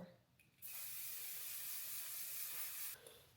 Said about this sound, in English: And then I spray it with hairspray to make it stick.